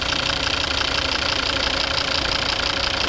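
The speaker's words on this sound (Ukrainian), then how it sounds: "Ну і звук двигуна. Правильний, хороший звук двигуна." A 2014 Volvo V70 with the 2.0 D3 diesel and automatic gearbox idles, giving a loud, close, steady clattering diesel drone with an even rhythmic knock throughout.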